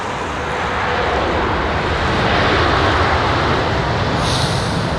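Airbus A330-900 jet arriving on Heathrow runway 27R, a loud roaring engine rush that swells steadily and stays broad and close, with a faint high whine near the end.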